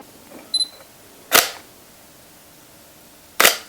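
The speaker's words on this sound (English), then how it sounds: "I'm going to take a photo at 2 seconds." A camera shutter opens with a sharp mechanical snap and closes with a second snap about two seconds later, preceded by a faint click.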